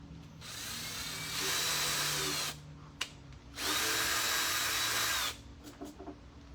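A power drill whines loudly in two long bursts, boring into wood, with a short pause between and brief clicks and rattles at the end.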